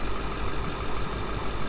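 A truck engine idles steadily in four-wheel-drive low range during a recovery, a dense close rumble with no voices.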